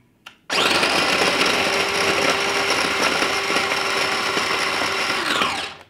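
Cranberries being chopped in a whirring electric food processor: one steady, loud motor run of about five seconds after a short click, with no talk.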